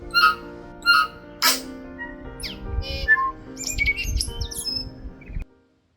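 Birds squawk and call with a ringing echo across a park lake, a few sharp separate cries first, then a denser run of chirps and whistles before the sound stops abruptly.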